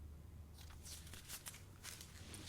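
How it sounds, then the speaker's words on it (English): A deck of cards is shuffled during a daily card reading, giving quick papery riffles and flutters in short bursts, faint and close, with no talking. "Shuffle, shuffle, shuffle."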